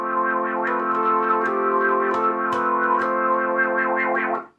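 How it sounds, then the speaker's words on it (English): A sustained, thick chord from a Vongon Replay synth driven by the MIDI Goblin auto chord feature, steady and distorted with rhythmic flickers of attack on top, then cutting off abruptly at the end. "There's the auto chord feature that sounds like this."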